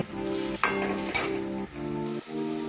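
Banana fritters fry in hot oil with a steady sizzle, broken by a few sharp clinks of a utensil against the pan, close by and with no one speaking.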